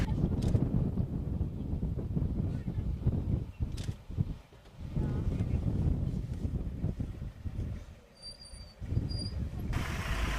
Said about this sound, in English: as you can probably tell from the engine noises as they shuffle for the best position